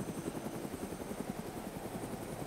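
A helicopter flies in the DayZ (Arma 2 mod) video game: a steady, fast, rhythmic rotor thump that is fairly quiet and continuous, with no talking over it.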